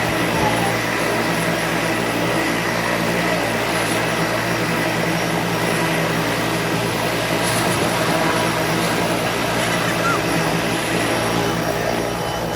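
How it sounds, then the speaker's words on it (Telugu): A helicopter takes off from dirt ground at an institute campus in Jubilee Hills, Hyderabad, with a loud, steady roar of engine and rotor close by that fills the whole stretch without a break. "సో ఇది టేకాఫ్ అవుతుందండి. టేకాఫ్ అయ్యేటప్పుడు మాత్రం చాలా దుమ్ము వేస్తుంది."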